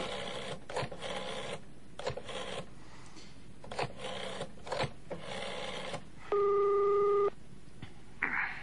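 Telephone effect in a Polish audiobook: a single steady electronic ring tone lasting about a second, loud and alone, after several seconds of soft rasping, handling-like rustles.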